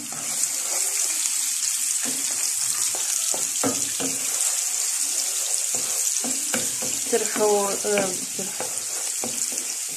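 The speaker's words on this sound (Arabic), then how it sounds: "Vous la faites revenir dans l'huile." Chopped onion frying in oil for a tajine, a steady hiss of sizzling with stirring clinks and scrapes throughout, fairly close and continuous.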